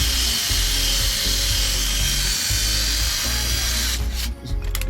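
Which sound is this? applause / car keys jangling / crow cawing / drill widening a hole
drill widening a hole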